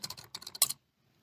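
Password typed on a computer keyboard, a quick close burst of about a dozen key clicks ending with a louder final keystroke, then silence.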